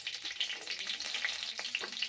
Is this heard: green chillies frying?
yes